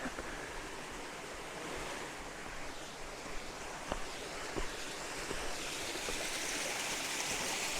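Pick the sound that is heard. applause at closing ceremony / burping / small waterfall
small waterfall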